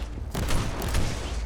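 Dense bursts of explosions and rapid gunfire from the Warhammer 40k Inquisitor Martyr video game crackle loudly and continuously, with no talk over the din.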